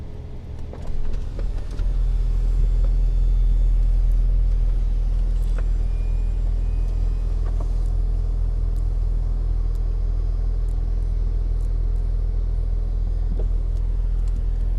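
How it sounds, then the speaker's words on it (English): The electric soft top of a 2018 Porsche 911 Carrera 2S Cabriolet lowers with a steady low motor hum and faint mechanical ticks, continuous and even throughout, with no talking. "But let's go ahead and lower this down here."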